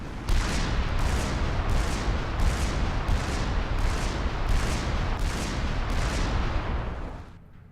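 A Cybran unit cannon in Supreme Commander 2 fires off Shredder drones in a steady series of about nine sharp launch bursts, roughly half a second apart, over continuous rumbling battle noise that fades at the end.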